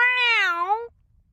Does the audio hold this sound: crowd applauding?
no